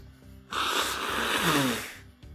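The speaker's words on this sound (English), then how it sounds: "I gotta blow my nose again, hang on." A person blows their nose once, a loud, close, breathy honk lasting about a second and a half, with faint room sounds before and after.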